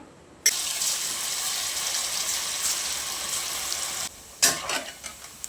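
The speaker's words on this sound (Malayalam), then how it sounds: "ഇനി നമുക്ക് ഈ ചിക്കൻ പീസ് ഒന്ന് വറുത്തെടുക്കാം" Masala-coated chicken pieces fry in hot oil for chicken fried rice. A loud, continuous close sizzle holds for several seconds, then breaks into sharper bubbling bursts as it settles.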